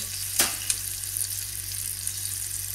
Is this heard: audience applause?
no